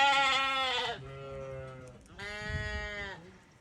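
Lambs and sheep bleat on a UK farm during a heatwave, two long, loud, close calls separated by a quieter lower bleat, with no other sound around them.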